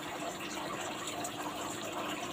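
Water is poured and splashed over live crabs that have gone about three days without water, a continuous steady gush lasting the whole moment with no talk over it.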